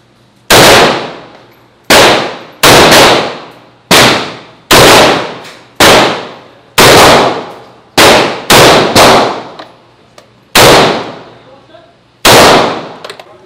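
Real firearms fired at an outdoor shooting range, loud sharp gunshots with ringing decay, about a dozen spaced irregularly, some in quick pairs, alone without talking.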